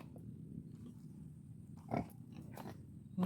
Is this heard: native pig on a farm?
yes